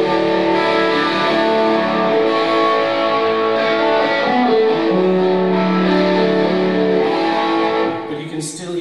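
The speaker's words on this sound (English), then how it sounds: "And as you keep going up, you get a little more distortion creeping in." An electric guitar played through a Vox amplifier, sustained chords ringing out with gritty distortion at a steady loud level before trailing off at the end.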